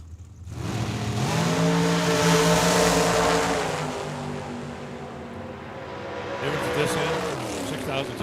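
A Corvette and a dragster launching side by side at Tucson Dragway, engines roaring up through the gears as they pass and fade down the strip, loud and trackside, with a crowd or announcer faintly underneath.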